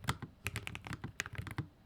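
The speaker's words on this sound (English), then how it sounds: "my keyboard is a low profile 85 key mechanical keyboard" Fingers type on a low-profile 85-key mechanical keyboard in a desk setup, a quick, uneven run of close, crisp clacks, with no talking.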